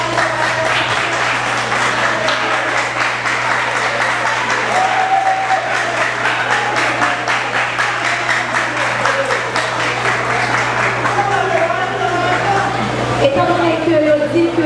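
An audience claps steadily and densely for a long stretch, loud and unbroken, with voices talking over the applause.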